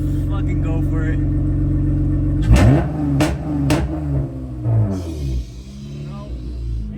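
A Honda Prelude engine idles with a steady low hum, then revs sharply a few times with rising, straining bursts, failing to rev past 3,000 rpm, while people talk nearby.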